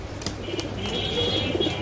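A male Giribaz high-flyer pigeon with bright red eyes gives a brief, low coo close up, set against a steady, noisy background.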